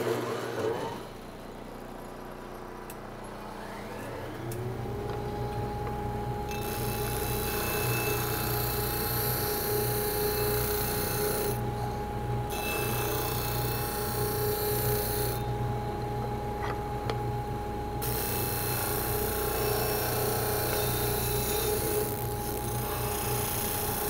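A wood piece is sanded on a machine that spins up after a few seconds and then holds a steady, loud whirring drone with gritty rubbing over it and brief dips in the grinding texture.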